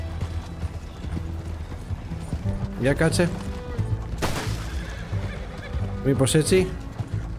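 Horse hooves clip-clopping steadily in Red Dead Redemption 2, with two loud neighs and a sharp crack in between, while someone talks over them.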